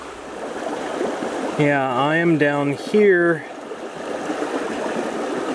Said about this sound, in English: it looks like I might be following the stream